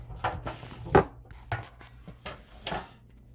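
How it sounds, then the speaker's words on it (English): Spoon stirring hot dogs and beans in a cooking pot, giving a few scraping, clinking knocks against the metal at an irregular pace, close by and fairly quiet. "you want to stir this up"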